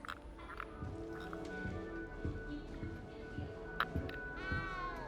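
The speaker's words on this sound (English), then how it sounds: "You don't need to be frightened, little cat." Cat meowing in the Hogwarts Legacy video game, a few soft plaintive mews over a low, busy ambient background, moderately close and not loud, with no speech.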